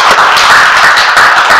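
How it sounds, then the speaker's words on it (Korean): Loud, close applause fills a church service, a thick continuous patter of many hands clapping with slight rhythmic surges throughout. "박수."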